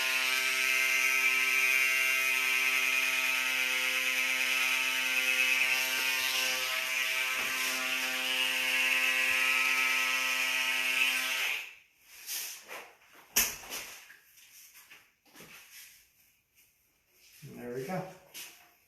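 An electric hair clipper buzzes steadily and close during a haircut for around eleven seconds, a strong harmonic drone, then cuts off, followed by quiet speech.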